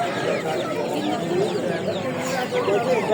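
Roosters cluck and call among caged poultry at a busy bird market in Quva, Fergana region, heard amid constant crowd chatter and background bustle.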